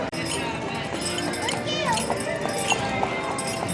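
Horses clip-clopping down Main Street USA at a theme park, hooves tapping in an uneven rhythm amid a busy, noisy crowd with children's voices and nearby talking.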